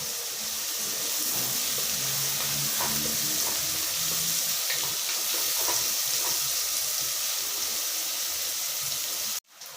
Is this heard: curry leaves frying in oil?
yes